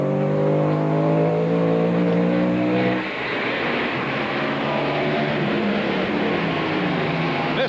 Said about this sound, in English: Look at the power coming off the corner, though, for Hornaday as we listen to his truck